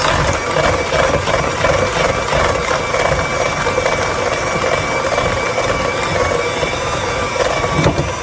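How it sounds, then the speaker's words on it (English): An electric mixer blends whipping cream into a peanut butter sandwich cookie filling, a loud, steady motor whir that holds without a break throughout. "we're going to blend this together until that whipping cream is completely combined."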